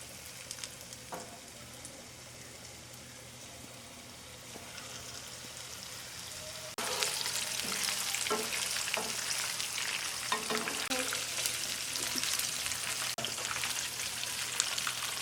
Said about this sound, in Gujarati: હવે આપણું તેલ ગરમ થઈ ગયું છે, તો આપણે એક એક કરીને આમાં બધા પનીરને નાખી દઈશું